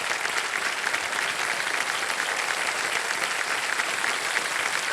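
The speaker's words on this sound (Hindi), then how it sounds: "ये 25 तालियां बज जाए इनके लिए।" Sustained applause from a large game show studio audience, steady and dense throughout with no pauses or voices rising above it.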